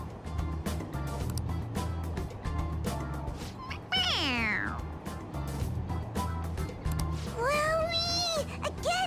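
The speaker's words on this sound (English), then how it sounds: "It meows when you press on its head." A stuffed toy cat in the video game Persona 5 Royal meows when pressed on its head: two clear, drawn-out meows a few seconds apart, over background game music with some talk.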